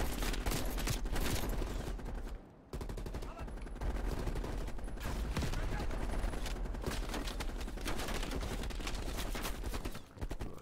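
Gunfire in the Black Ops Cold War video game, a dense stream of rapid shots running almost continuously, loud and close, with a brief gap near the start and game noise underneath.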